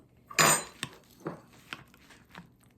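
A big spoon scoops peach cobbler from a baking dish: one loud scraping clatter, then several lighter metallic clinks and taps spaced through the moment.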